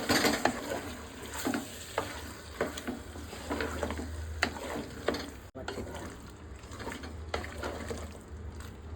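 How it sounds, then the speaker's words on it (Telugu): Gongura chicken pulao stirred in a pan, with repeated rhythmic scraping strokes of a spoon over a continuous low sizzle, close and moderately loud. "ఇదంతా మంచిగా చికెన్ కలిసేటట్టు కలుపుకుందాం"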